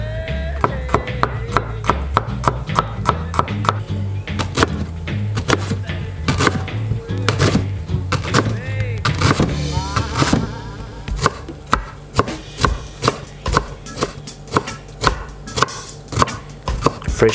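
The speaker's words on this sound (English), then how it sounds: "Cut your ginger really fine so all that flavour comes out." Fresh ginger chopped finely with a knife on a board, a rapid run of sharp, close knocks that keeps a steady rhythm throughout over faint music in the background.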